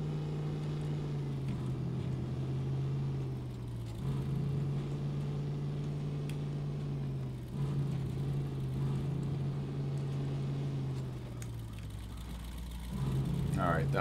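Old long bed Chevy truck engine in the Snowrunner off-road driving game, a steady mid-pitched engine drone that dips and revs up again in several cycles, with someone talking over it.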